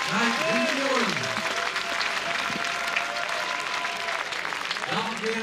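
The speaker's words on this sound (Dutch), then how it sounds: "Applaus, Jan Terenauta." A crowd at a Frisian championship fierljeppen (canal pole vaulting) event claps steadily for the winner, sustained applause with an announcer talking over it.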